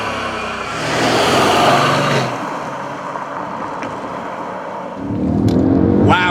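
A Mercedes ML 63 AMG engine revs up and accelerates, its roar rising and falling, then surging loudly again near the end.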